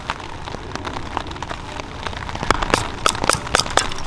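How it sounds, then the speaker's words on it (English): Rain falls steadily outdoors in the Pacific Northwest, a dense close patter on surfaces with scattered sharper drops that grow a little louder toward the end, and no voices. "I apologize if that rain is too loud, but we are in the Pacific Northwest"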